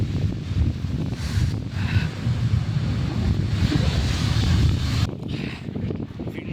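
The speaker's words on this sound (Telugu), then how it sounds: "వాటర్ ఫాల్ మాత్రం క్రేజీ ఉంది." A waterfall near Ballarat, Australia, roars as a steady low rushing wash, loud and continuous, with some wind buffeting the microphone and a brief dip near the end.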